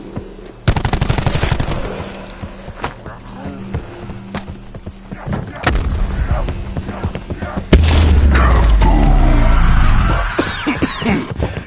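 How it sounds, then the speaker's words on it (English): Gunfire and explosions in the video game Call of Duty: rapid bursts of shots and sharp cracks, then a loud, rumbling blast that swells and holds for several seconds, with voices speaking through the chaos. "That was a very large explosion."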